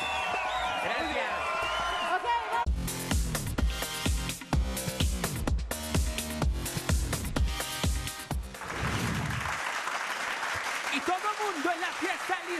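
A studio audience on the Venga La Alegría TV show gives loud, sustained applause with whoops and cheers, mixed with a host's voice and bursts of music.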